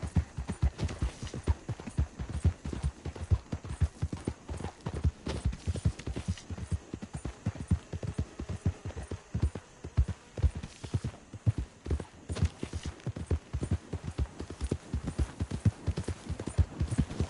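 Horse hooves clip-clop at a steady walking rhythm in a video game, loud and close, going on continuously with no talk over them.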